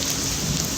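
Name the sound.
rain falling in Maharashtra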